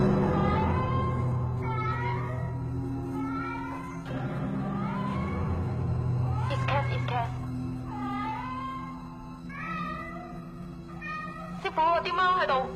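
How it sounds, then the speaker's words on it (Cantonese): Cats yowl and meow in drawn-out, wavering cries during a nighttime spirit-summoning ritual, rising over a steady low drone. Voices and other sound run beneath them for most of the stretch. "啲貓喺度怪叫"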